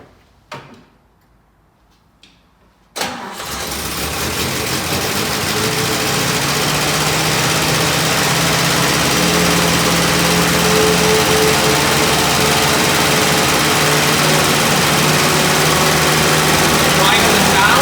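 A 1962 Jeep M170 military ambulance engine, freshly swapped in, cranks briefly and catches, then settles into a steady loud running rumble that continues to the end, close by.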